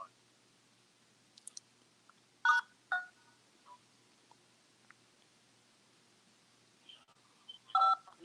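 Telephone keypad DTMF tones are pressed to enter star six and mute a conference call: a few short, clear beeps in separate bursts with quiet between them and no talk.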